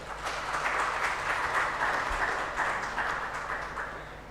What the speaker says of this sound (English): May we please have a round of applause for our sponsor.